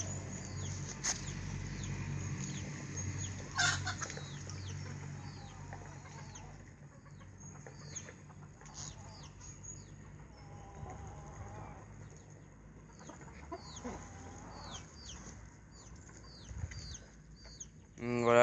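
Hens clucking and squabbling in a backyard poultry flock, scattered short calls near and far over a steady low outdoor rumble, with faint voices in the background.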